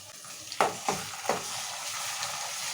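Ginger garlic paste dropped into hot oil for a mutton fry, giving a few sharp sizzling bursts with a fainter steady frying hiss between them, close by and without talk.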